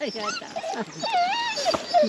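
A dog whines in high, wavering cries under a person talking nearby, the whimpers rising and falling in short repeated bursts.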